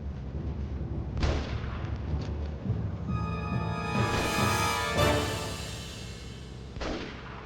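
World War II rifles firing in a dark zombie survival video game: a few sharp booming reports with long echoing tails, spaced apart over a low rumbling background.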